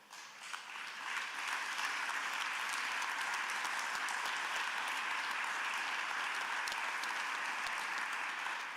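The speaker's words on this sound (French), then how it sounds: "il faut les acclamer" A conference audience applauds the African Union reform team at an arena event, a dense, steady wash of clapping that swells within the first second and holds at an even level throughout.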